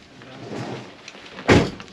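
A motorhome door is shut with a single solid thud that lands near the end, preceded by soft rustling and faint background sounds while it is raining.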